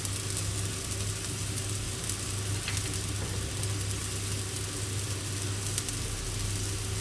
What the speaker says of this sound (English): Add the dark soy sauce.